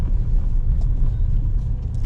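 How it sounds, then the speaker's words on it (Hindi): A Tata Safari SUV with a 2-litre, 170 bhp diesel engine drives on hill roads, giving a steady, loud low rumble of engine and road noise inside the cabin. "2 लीटर का diesel engine, 170 bhp, 350 Newton metre torque."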